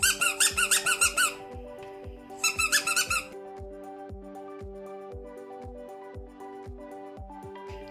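A rubber puppy chew toy gives two quick runs of sharp squeaks as it is squeezed again and again. Each burst lasts about a second, and a faint rhythmic background plays under them.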